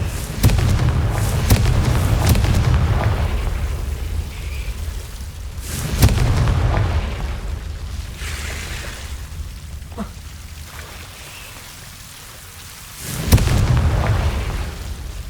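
Confringo fire-blast spell explosions in Hogwarts Legacy, several deep booming bursts spaced a few seconds apart over a low rumbling game backdrop.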